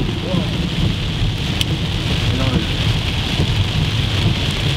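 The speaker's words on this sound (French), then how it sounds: "Il arrive une espèce des éclairs de fou." A heavy thunderstorm in Tornado Alley, USA, with dense, steady rain pouring loudly throughout and low thunder rumbling underneath. No voices stand out.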